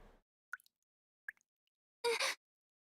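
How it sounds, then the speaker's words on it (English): Water drips in a video game, heard as two short, faint plops spaced apart in near silence, followed by a louder burst of broadband noise. "Here's a dripping noise."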